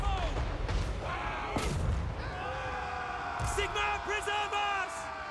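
Musket volley fire from massed troops in the fantasy strategy game Total War: Warhammer 3, a sharp burst cracking over a continuous battle din of clashing units and shouts, with game music tones threading through.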